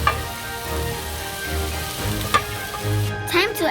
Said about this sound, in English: Time to add in the prawns now.